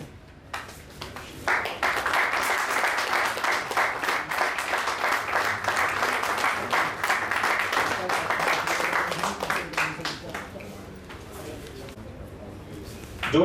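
A crowd at a Baroda Road Transport Association annual general meeting breaks into sustained applause for about ten seconds, dense and loud, with a voice heard briefly at the edges.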